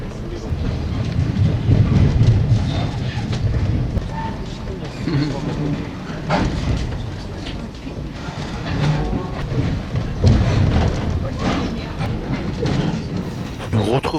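The Overland passenger train runs over suburban tracks with crossings around Melbourne, steady rumbling rail noise and clickety-clack wheel beats continuing beneath a talking voice.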